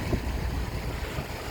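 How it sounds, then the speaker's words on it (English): A sailboat under engine power motoring along the Spanish coast, a steady close wash of engine drone and rushing water with wind across the microphone, no voices. "we're motoring alongside the coast of"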